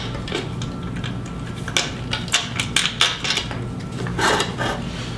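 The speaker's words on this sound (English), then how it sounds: "This one you just loosen the wing nut here" A drum floor tom leg is loosened at its wing nut and the metal bolt slid out, giving a scatter of close metallic clicks, taps and scrapes of irregular rhythm against a quiet room.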